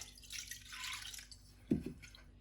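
Rice is washed in water in a home kitchen, with faint quiet swishing followed by a sharper splash and a few drips near the end.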